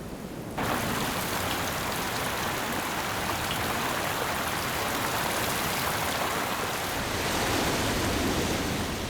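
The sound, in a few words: floodwater rushing through desert channels after heavy rain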